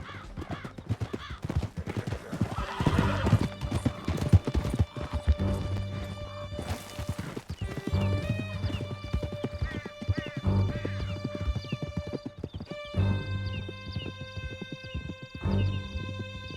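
Horse hooves gallop steadily at close range in the Red Dead Redemption 2 video game, with neighs and whinnies breaking through a layer of music and other game sounds.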